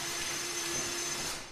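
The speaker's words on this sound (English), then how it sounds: "We're going to want to drill straight up and down" A power drill with a 3/8 bit bores holes straight down through a Ski-Doo Pilot 5.7 ski for a carbide runner install, giving one steady, loud motor whine with a constant hum that fades slightly at the end.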